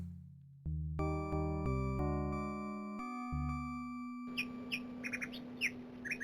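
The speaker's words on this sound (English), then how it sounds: "Chirp, chirp." Birds chirp in the video game Shadow of the Comet: a run of sustained musical tones gives way to bright, repeated high chirps over a low ambient rumble, clear and fairly near.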